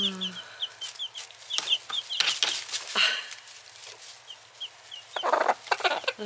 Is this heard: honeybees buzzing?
no